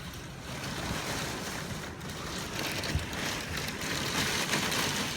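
Heavy rain pours outside during a storm in Sherman, Texas, a continuous loud rushing wash of water like a river, steady throughout with slight surges.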